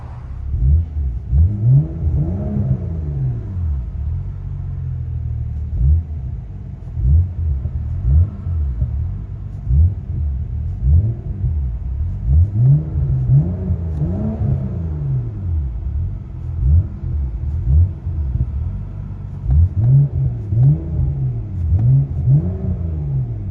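A 2012 BMW 535i's 3.0L inline-six with straight pipes rumbles steadily at idle, a deep exhaust note swelling and dipping in repeated rises, close by and fairly loud, with no talking.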